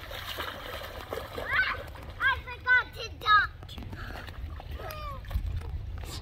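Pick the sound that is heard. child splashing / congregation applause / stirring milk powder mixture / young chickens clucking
child splashing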